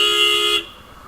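Stock single horn on a Royal Enfield Classic 350 motorcycle sounds one loud, close, steady honk lasting about half a second, then cuts off abruptly into quiet.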